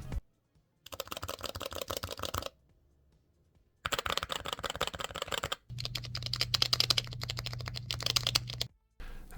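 Switches on a Haute42 T16 Crystal controller are pressed in quick clicky bursts, separated by short silences, close and crisp with no voices.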